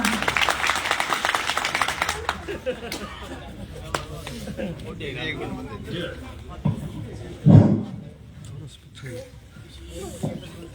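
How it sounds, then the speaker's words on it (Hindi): An audience at a public program in Ramgarh claps, strongest at the start and then thinning into scattered claps mixed with crowd chatter and voices, with a sharp thump partway through. "ओम जी के लिए जोरदार तालियां।"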